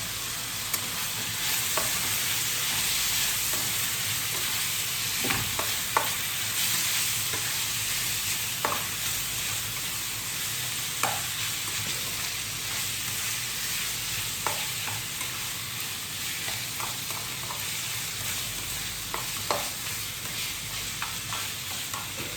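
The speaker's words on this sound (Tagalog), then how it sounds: "haluin lang natin ulit" Chicken afritada with chicken cubes being stirred in a pan, a steady sizzle of frying under scattered scraping and clicking strokes of the spoon, close and continuous with no talking.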